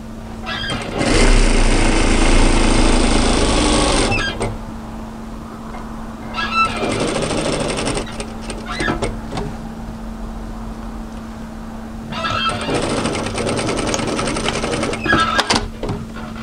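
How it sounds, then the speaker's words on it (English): A sewing machine stitches a 1 cm seam on a crop tailored knit military jacket, running in three loud, steady whirring bursts of a few seconds each, separated by quieter pauses with faint handling noise. "I'm going to match my start point and sew down in a 1 centimeter seam"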